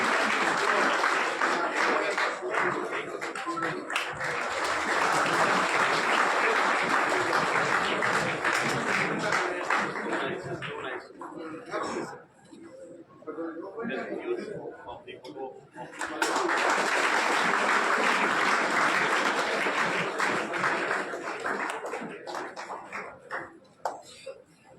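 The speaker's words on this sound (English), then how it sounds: "Dear students, please extend a round of applause to welcome" Students at a college of education applaud to welcome a guest, sustained loud clapping for about twelve seconds, a brief dip with scattered claps, then a second strong burst of applause that gradually thins out.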